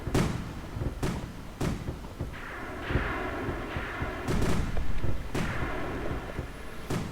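Missile launches and explosions in a real-time strategy naval battle with subs and corvettes firing cruise missiles: a string of sharp booming blasts, some near and loud, over a steady rumbling battle bed, with no talk.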